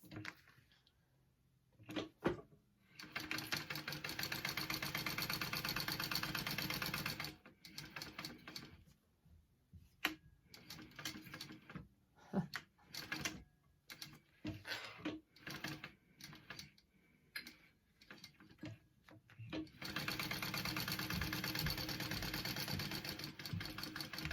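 A home sewing machine top stitches a backpack at an eighth of an inch, its motor whirring in several long continuous runs broken by short stops and brief, choppy bursts of stitching.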